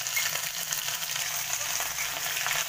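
Cumin and ginger-garlic paste sizzle in hot oil, giving a dense, continuous, crackling fry hiss that stays close and steady throughout, with no voice.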